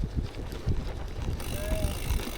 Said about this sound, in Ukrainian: Блін, вітерець сьогодні. Буде задувати, звісно.